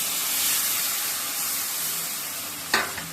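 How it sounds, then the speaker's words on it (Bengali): Water splashes into a hot pan of eggs seasoned with salt, turmeric and chilli, raising a loud, steady sizzle and hiss that holds throughout, with a sharp clatter near the end. "এবার বন্ধুরা জলটা দিয়ে দিই"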